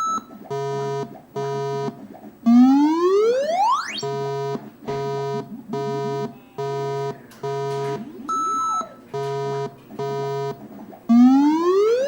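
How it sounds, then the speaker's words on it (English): Atari Liberator coin-operated arcade game cycling through its test mode: a repeating series of short, evenly spaced electronic beep tones broken up by rising sweeps, loud and clean with no talk. "upon inspection, the 6th tone is a little higher than the other 8 tones"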